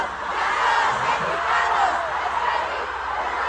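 A dense, roaring concert crowd at a Stray Kids show in Mexico City, voices blending into a sustained loud chant-like swell that holds steady for the whole stretch.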